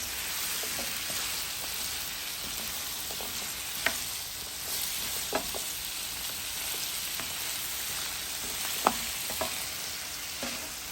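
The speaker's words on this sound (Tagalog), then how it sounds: "Lagay natin yung sayuti. At saka haluin." Chayote with mussels frying in a pan and being stirred: a soft, steady sizzle with a few sharp clicks of the spoon against the pan, fairly quiet and with no voices.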